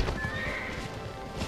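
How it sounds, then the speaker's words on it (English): Horses neigh with a short whinny while hooves clip-clop underneath, a close, busy mix of hoofbeats and a single drawn-out call over about a second and a half. "These horses cannot be killed."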